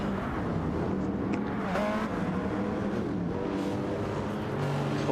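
A race car engine screams at high revs as the driver spins the tyres on the power coming out of corners, with a sustained close roar and shifting pitch throughout.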